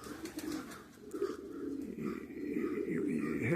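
Cooing of a young pigeon, about six months old, at a pigeon show, soft and close with low murmuring calls and faint background voices.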